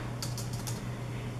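Keys clatter on a USB computer keyboard in a quick run of four or five presses, close and crisp over a low steady hum.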